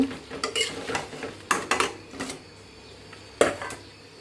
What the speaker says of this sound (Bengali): ভালো করে নাড়াচাড়া করে দিই এখন কলিজাটা একটু ভালো করে কষিয়ে নিই